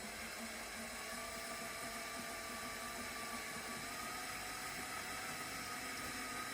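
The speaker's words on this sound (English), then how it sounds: "I feel the drill pulling in" A steady, continuous motor whine runs throughout, loud and unbroken, from a power drill held at constant speed, drilling over a nail.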